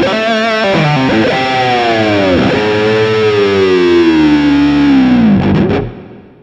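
Electric guitar dive bomb played with the whammy bar through heavy distortion: a loud sustained chord whose pitch sinks steadily over several seconds, then wobbles back up and cuts off.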